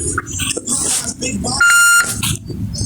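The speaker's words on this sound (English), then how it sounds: "Why is that beeping in my ear so bad?" A single sustained electronic beep of about half a second sounds on a phone line during a hold, loud and steady, set between stretches of talking.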